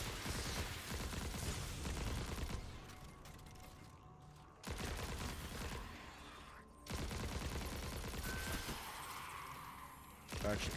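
Gunfire in Destiny 2 comes in dense bursts of rapid shots, loud and close, broken by two short quiet gaps before the firing resumes.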